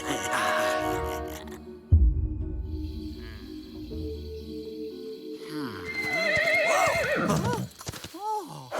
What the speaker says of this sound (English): Catch those horses!